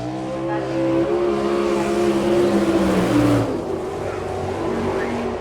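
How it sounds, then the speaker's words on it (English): A Shaver-built sprint car racing engine on a dirt track at Chillicothe, Ohio, during an All Star Circuit of Champions event, roaring loud and steady with sustained revving that shifts pitch midway, faint announcer talk underneath. "Shaver racing engine"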